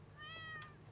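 A single short meow from an orange cat in Stardew Valley, soft and fairly quiet, rising and falling over a low background hum.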